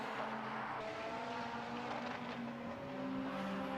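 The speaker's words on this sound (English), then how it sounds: "Here comes the Caterham out of the hairpin, 145." A Caterham race car accelerates out of the hairpin at Knockhill during a time attack session, its engine note a steady, distant rasp that climbs slightly in pitch toward the end.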